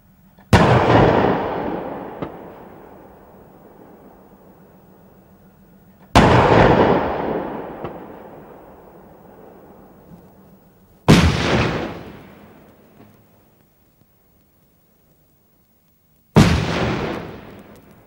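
Four heavy 40mm explosive and armor-piercing rounds strike targets one after another at intervals of several seconds, each a sharp loud blast with a long rumbling decay, heard without talk.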